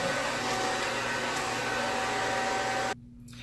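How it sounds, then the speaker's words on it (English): A handheld blow dryer running on a low, warm setting gives a steady, close whooshing drone that cuts off abruptly near the end, leaving faint room noise. "gonna set my blow dryer on warm"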